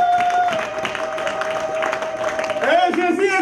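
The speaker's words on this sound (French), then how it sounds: "Est-ce que nous pouvons donner une très bonne acclamation à notre Dieu?" A church congregation claps and acclaims God, a steady wash of applause with voices calling out and a sustained tone running beneath, ending in louder shouts.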